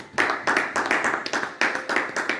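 A church congregation claps their hands in a steady, rhythmic beat, a dense group of claps at close range with no talking over it.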